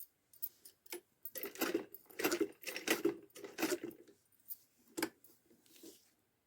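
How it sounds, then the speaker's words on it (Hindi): A domestic sewing machine stitches a small summer dress for a Laddu Gopal idol in short bursts, rapid mechanical clatter with pauses between runs, close and fairly quiet. "इस तरह से हमने फिर से मशीन को घुमाना है।"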